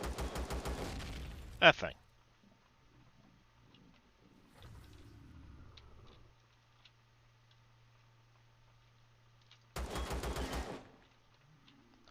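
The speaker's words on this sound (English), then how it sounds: "Something up here was shooting at me." Bursts of rapid automatic gunfire from an enemy in the Empyrion survival game rattle at the start and again near the end, loud and rhythmic, with quiet stretches between and a voice speaking briefly.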